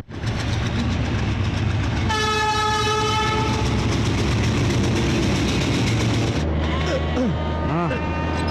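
A train rumbles past close by, and a long, loud horn blast holds for about four seconds over the rolling noise. Voices and scattered chirps follow as the horn ends.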